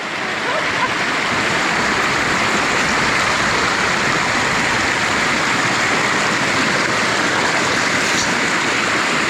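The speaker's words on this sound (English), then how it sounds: "a beautiful river that runs right into the Yellowstone River" River flowing into the Yellowstone River, a loud steady rushing wash of water close by that holds unbroken throughout.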